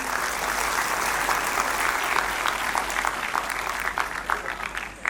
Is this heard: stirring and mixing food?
no